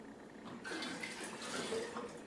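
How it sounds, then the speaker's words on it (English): Water poured into a jar of kefir grains to make water kefir, starting after a brief quiet moment as a soft, close splashing trickle that continues steadily at low volume. "Here, I'll continue to add water."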